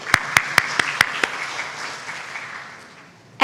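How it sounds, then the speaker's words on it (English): Claps ring out from an education conference audience for a distinguished speaker, starting as a handful of loud, distinct slaps and then thinning into a softer, fading patter. "please join me in giving a warm round of applause for our distinguished speaker"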